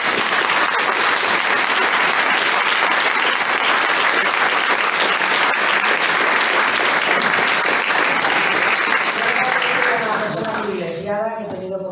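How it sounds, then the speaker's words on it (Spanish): A seated audience at a talk gives sustained, loud applause, a dense wash of clapping that holds steady for about ten seconds before a voice begins speaking as it fades. "te debemos un aplauso grandísimo"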